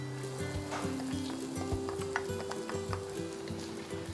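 Carrots being stirred in a frying pan, with a steady sizzle and scraping, clinking stirs repeating through the clip over a low hum.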